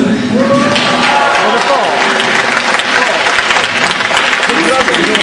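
An audience claps and cheers loudly at a Polish rock concert, dense steady applause filling the room close-up, with voices mixed into the crowd noise.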